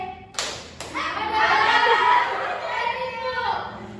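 Children in an Indonesian primary school classroom do a rhythmic clapping cheer: two sharp, close claps, then a burst of lively young voices chanting and chattering together.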